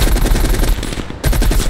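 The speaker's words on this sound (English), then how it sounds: "The gunfire is loud." Rapid automatic gunfire in a Call of Duty Cold War match, loud and close, sustained bursts of fast shots with a brief dip midway before firing resumes.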